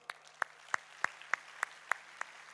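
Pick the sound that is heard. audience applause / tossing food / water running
audience applause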